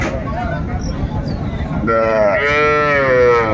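A Sahiwal cow lets out a loud, drawn-out moo close by in the second half, after a stretch of background noise and murmuring on a cattle farm in Cox's Bazar.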